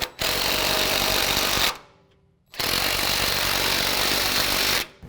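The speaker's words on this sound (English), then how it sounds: "So I'm going to use an impact just to run these up" An impact wrench running up sway bar bolts during a 6-inch lift kit install on a 2015-17 Ford F-150 4WD, two loud sustained rattling bursts with a brief pause between, close up.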